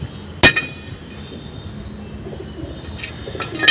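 A sharp clink is followed by a soft, low cooing from a sick female pigeon nearby, with a few faint chirps toward the end.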